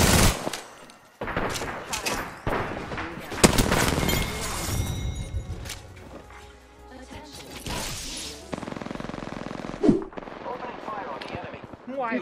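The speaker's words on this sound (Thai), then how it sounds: "The enemies are shooting." Enemy gunfire in an Apex Legends match: bursts of automatic weapon fire, some close and sharp and some farther off, broken by pauses, with game effects and a voice talking over parts of it.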